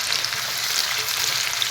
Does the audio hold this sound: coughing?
no